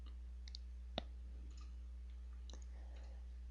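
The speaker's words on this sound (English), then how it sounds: "let's click preview" A single sharp computer mouse click on a preview button in CAD software, with a few faint lighter clicks around it in a quiet room.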